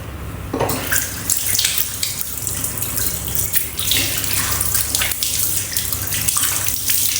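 Tap water runs steadily into a sink during a face wash on a hot day, a constant close hiss with soft splashing changes and no voices.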